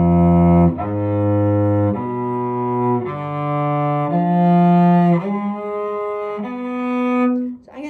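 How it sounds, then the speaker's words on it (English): Solo cello bowing a diminished arpeggio built from stacked minor thirds, a series of sustained notes moving up and back down, close and full, with no voice. "And now we're gonna do the diminished arpeggio,"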